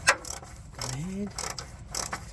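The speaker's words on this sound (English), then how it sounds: "this bolt right here is a T50 Torx, and we got it jacked up enough we can get our socket and ratchet in there" A socket ratchet works a T50 Torx belt tensioner bolt on a jacked-up Nissan, giving a few short bursts of clicking pawl and metal mechanism sounds, close by, with a brief faint voice.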